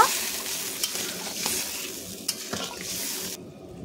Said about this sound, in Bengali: এবার জলটা দিয়ে আমি ভালো করে এটাকে নাড়াচাড়া করে সর্ষেটাকে মাখিয়ে নেব।